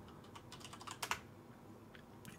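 Quiet keystrokes on a computer keyboard entering a command, a short burst of rapid taps followed by a couple of louder presses and a few scattered clicks over low room hiss.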